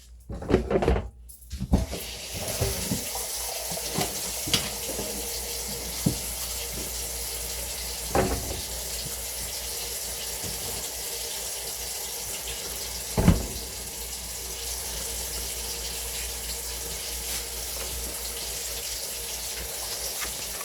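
Water runs from a tap into a sink to make soapy water, a steady wash of flow broken by a few knocks and clatters, heaviest near the start.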